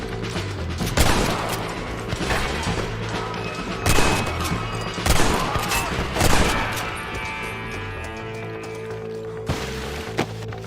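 Gunshots in a Red Dead Redemption shootout, a handful of sharp separate cracks and clatters spaced a few seconds apart over a low droning background that fades toward the end.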